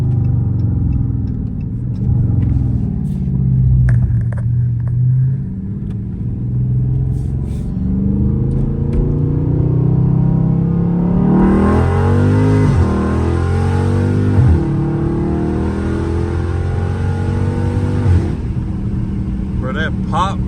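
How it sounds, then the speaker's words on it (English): A loud Dodge Charger Scat Pack with an extremely loud exhaust revs hard and upshifts from inside the car, the engine drone rising and dropping between gears with a harsh rasp, while people talk over it. "That upshift is crazy, bro."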